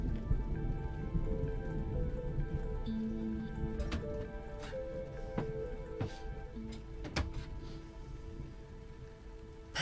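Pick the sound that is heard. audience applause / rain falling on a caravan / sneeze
rain falling on a caravan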